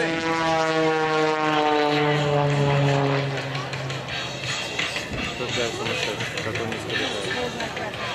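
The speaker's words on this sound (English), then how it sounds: "Still turning the airplane around, rolling the airplane. It's the torque roll." An aerobatic propeller airplane performs a torque roll at a Vero Beach air show, its engine droning loud and steady with a sweeping pitch shift, then easing into a rougher, fluttering roar as it turns.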